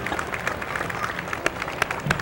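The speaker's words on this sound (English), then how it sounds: "You can hear the crowd." A parade crowd at Winchester's 350th anniversary celebration in 1988 applauds and cheers, a dense wash of clapping with sharper bursts standing out, fairly loud and continuous.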